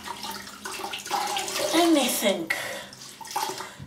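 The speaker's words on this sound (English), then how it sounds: "True to form, I'm making lots of lather splashes here." Shaving lather splashing with water during a wet shave, a continuous wet swishing and splattering close by, with a person talking over it.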